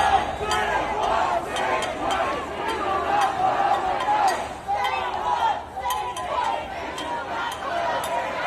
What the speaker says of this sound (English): Just turn the chants up a bit more there.